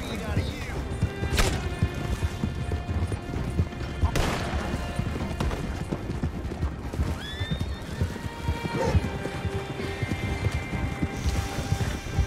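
A horse in the video game Red Dead Online whinnies over a steady clip-clop of hooves, with game noise filling the background throughout.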